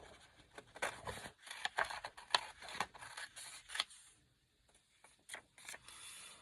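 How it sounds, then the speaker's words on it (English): Paper being cut with scissors at a craft table, a run of soft close snips and crisp slicing strokes that trail off into quieter handling. "Let's cut this out."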